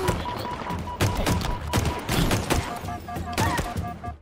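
Rapid bursts of battle rifle fire in Halo, a loud sequence of sharp shots repeated in clusters roughly every half second, with in-game impacts and thuds underneath.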